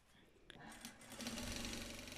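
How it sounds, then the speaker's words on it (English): A sewing machine stitches fabric for a Nigerian iro and buba outfit, starting with a faint click and then running in a steady, close whirring hum that grows louder as it speeds up. "So I'm just sewing it from the armhole all the way to the shoulder and then back to the armhole"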